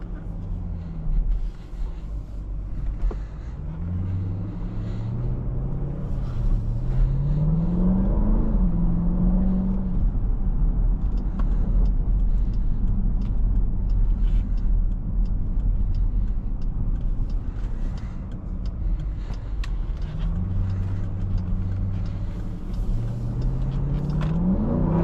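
A 2023 Dodge Durango SRT 392 accelerates hard from inside the cabin, its engine note climbing and dropping through quick, aggressive gear shifts, first early on and again near the end, with a steady loud road rumble in between.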